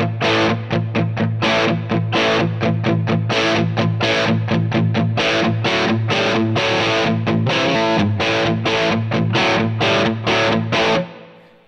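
Distorted electric guitar through a Line 6 Helix amp model with sag set to 0 plays a fast, choppy chugging riff of tight repeated palm-muted stabs and chords, loud and close, ringing out briefly at the end.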